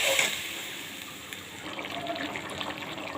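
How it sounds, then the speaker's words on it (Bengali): Water pours into a pan of fish curry made with stinging catfish, a steady splashing stream that starts at once and runs continuously at close range with no talking. "এখন পরিমাণ মতো জল দিয়ে দেব"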